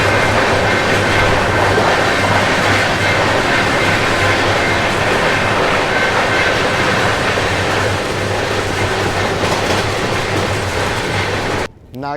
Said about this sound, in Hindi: अवध एक्सप्रेस डिपार्चर लेते हुए ओवरटेक के बाद